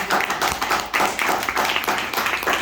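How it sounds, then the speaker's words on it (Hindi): A burst of enthusiastic clapping from a crowd, dense and steady throughout, filling the whole clip. "अब एक बार जोरदार ताली आप समीर को।"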